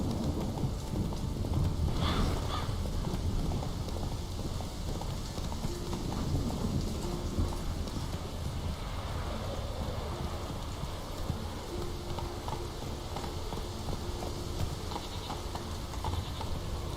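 In The Witcher 3, the horse Roach clip-clops in a steady, close hoofbeat rhythm that runs throughout over a soft rain-like hiss of background noise.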